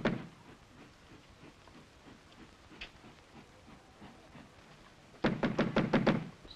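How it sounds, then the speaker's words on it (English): Sharp knocks rap on a door in a quick cluster of about six near-even blows near the end, following a quieter stretch of faint room noise and soft movement. "It's no use knocking."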